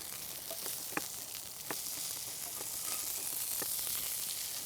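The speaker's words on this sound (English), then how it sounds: "I can hear our meat sizzling away over here" Loose rustic meat patties with rosemary sizzle steadily in a cast iron skillet, a constant bright frying hiss broken by a few sharp pops and crackles, close and alone.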